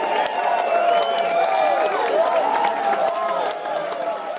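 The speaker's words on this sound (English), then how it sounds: "Steve, can we get a stadium full of cheering fans?" A stadium crowd of fans roars and cheers in a steady, dense wash of noise that holds loud from start to finish, with voices shouting and whooping inside it.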